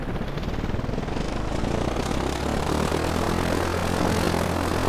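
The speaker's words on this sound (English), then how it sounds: "Sound, it's got the drone sound, which makes sense because that's also a propeller plane." A propeller plane engine, the Allegro 2000 aircraft mod in ArmA 3, runs steadily with a loud continuous droning buzz and dense broadband roar, holding at constant strength throughout.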